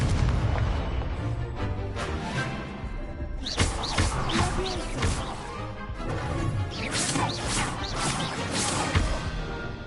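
Spell casting in Hogwarts Legacy: bursts of fiery magical blasts and crackling impacts layered over game music and combat effects, with loud whooshing hits around the middle and end.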